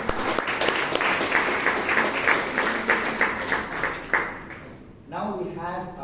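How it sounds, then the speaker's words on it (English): Sustained audience clapping at a Toastmasters meeting, steady for several seconds before cutting off as a voice begins speaking. "Let's give a good applause to Toastmaster Vivek"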